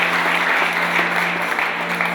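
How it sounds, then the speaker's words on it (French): A church congregation at a dedication service of an Assemblées de Dieu church in Burkina Faso claps continuously and loudly, a dense wash of applause with a steady tonal hum beneath. "Merci. Applaudissez."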